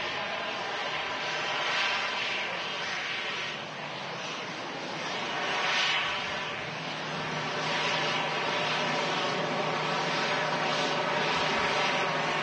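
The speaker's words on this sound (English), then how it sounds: "EasyJet just vacating in front of us. This one's from Basel, A319, 17 years old," An easyJet Airbus A319 from Basel vacates the runway at Manchester Airport, its jet engines a continuous broad roar with slow swells in loudness, heard from a moderate distance with no talk.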